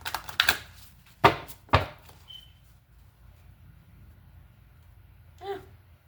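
Tarot cards from a Moon and Stars deck being shuffled, a few quick sharp riffling bursts near the start followed by quiet, with a faint later rustle and a brief voice.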